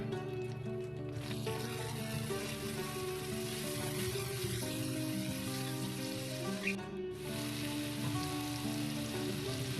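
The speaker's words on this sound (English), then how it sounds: "I have 2 tablespoons of oil and I'm browning my garlic" Minced garlic browning in two tablespoons of hot oil gives a steady, close sizzle and crackle that runs unbroken throughout, with faint tonal music underneath.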